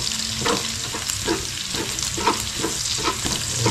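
Food fries in hot cooking oil with a steady close sizzle and crackle, and a utensil stirs and scrapes in soft repeated strokes; no one speaks.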